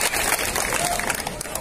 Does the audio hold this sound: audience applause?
yes